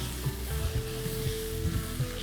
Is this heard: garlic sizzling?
yes